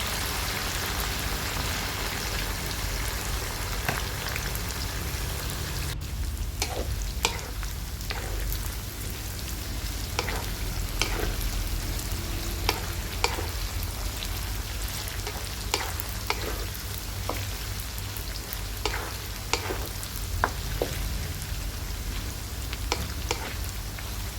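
Garlic frying in oil until golden for a Thai thick pork noodle soup, a steady dense sizzle with occasional stirring scrapes and clinks of a utensil against the pan throughout.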